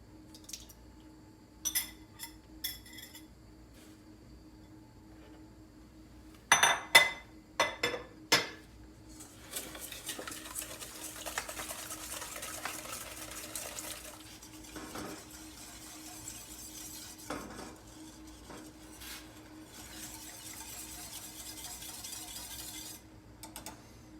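A whisk clinks and scrapes against a bowl as sugar and eggs are beaten together for a lemon tart. A few sharp knocks come first, then a quieter, steady rapid stirring rattle. The sound is close and faint, with no voices.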